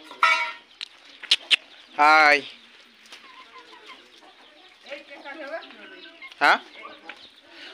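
A hen at a rural home clucks and gives a couple of loud squawks nearby, amid scattered bird calls, while people talk briefly.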